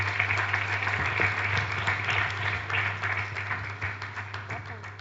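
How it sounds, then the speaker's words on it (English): An audience at a book presentation gives a round of applause for the keynote speaker, a moderately loud continuous clapping wash under a low steady hum, with speech faintly mixed in. "Ladies and gentlemen, do us the honor with a round of applause."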